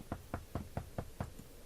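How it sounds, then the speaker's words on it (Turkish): Knocking on a door in The Wolf Among Us video game: six evenly spaced knocks, moderately loud and close, with no talk over them. "Kim çaldı lan bu kapıyı?"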